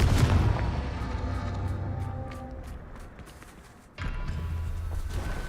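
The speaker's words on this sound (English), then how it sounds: "Confringo. Merlin himself would be proud." A Confringo fire spell blasts in the PC game Hogwarts Legacy: a loud booming burst opens and slowly fades, then a second sharp blast erupts near the end and rumbles on.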